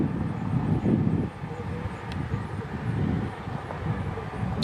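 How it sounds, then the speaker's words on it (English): A Bombardier CRJ 200 regional jet at Milwaukee's General Mitchell airport gives a steady, moderately distant engine rumble with a low roar throughout, with no talk. "Checking out this CRJ 200"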